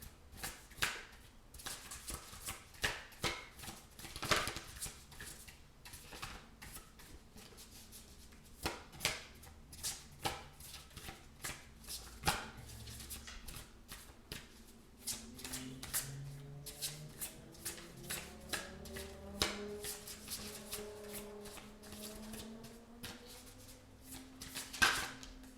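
Oracle cards shuffled by hand close up: a long run of quick papery riffles and flutters in uneven bursts, with occasional sharper taps, steady throughout and no voices.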